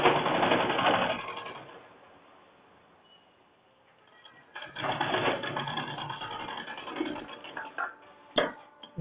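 A sewing machine stitches a blouse in short bursts. Whirring runs of stitching are broken by a quiet pause and a few sharp mechanical clacks toward the end.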